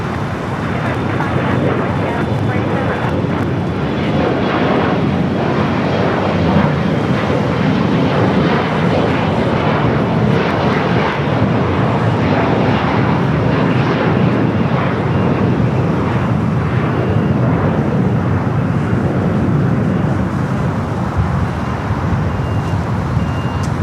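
An Embraer jet departs at Los Angeles LAX, heard as a loud, continuous broadband engine roar with wind-like rumble that stays steady for the whole stretch.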